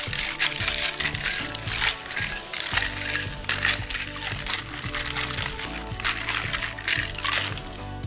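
Ice rattles and clatters rhythmically inside a metal cocktail shaker, a steady, fairly quiet shaking that continues for several seconds.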